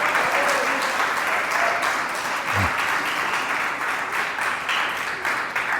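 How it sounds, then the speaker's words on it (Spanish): A church congregation applauds loudly and steadily, a dense wash of clapping hands that fills the sanctuary throughout, with some voices faintly mixed in underneath. "Denle un fuerte aplauso a Dios."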